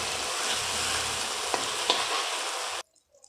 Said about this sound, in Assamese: টমেটো চচ দি উঠি আমি এইখিনি ভালদৰে লাৰি ভাজি ল'ম।